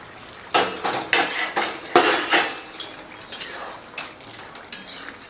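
Metal clinks and scrapes repeatedly from a cooking pot of broccoli and potato curry as the lid comes off, a close series of sharp utensil knocks and clatters in uneven rhythm.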